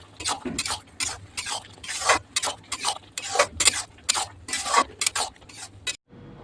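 A spoon scrapes and taps in a pan as fried prawns are stirred into bottle gourd curry, a close run of irregular scraping strokes and clinks that stops abruptly at the end.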